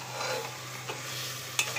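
Beef and bottle gourd are stirred and fried in a pan, a soft continuous sizzle with scraping stirs and a sharp utensil clink near the end, quiet and close.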